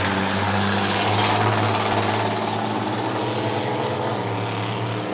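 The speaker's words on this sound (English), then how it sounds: "The unlimited hydroplane. The aeroplane, as we like to call it. Rolls-Royce Merlin from a Spitfire fighter aircraft." Unlimited hydroplane racing boat powered by a Rolls-Royce Merlin Spitfire aircraft engine on Lake Eppalock, a loud, steady, deep droning roar that holds constant throughout with no voices.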